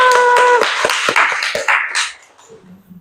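A classroom of students clapping hands together on a teacher's cue, a burst of sharp, fairly loud claps with some ringing tones that thins out and fades to near quiet by the end.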